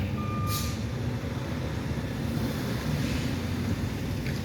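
Delivery truck rolling past on a street just reopened after a crime scene, a steady loud low rumble of engine and tires lasting throughout, with a brief high beep near the start.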